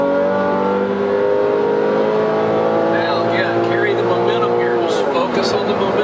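Porsche Carrera S with Tiptronic automatic pulling hard at full power in second gear during a hot lap, a loud, steady engine roar with rising harmonics climbing in pitch, heard from inside the car.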